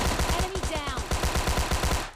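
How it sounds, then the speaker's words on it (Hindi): Automatic gunfire in PUBG Mobile Lite rattles out as a fast, evenly spaced stream of punchy shots, loud and close, running for about two seconds before cutting off. "सामने से फायर शॉट्स आ रहे हैं"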